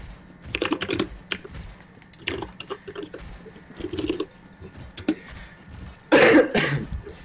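Bursts of computer keyboard typing come in short clustered runs of close clicks with pauses in between, followed by a loud cough near the end.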